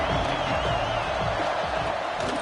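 A football stadium crowd roars in a broad, continuous wash of cheering on a third down, steady and loud throughout, with a commentator's voice faintly woven underneath.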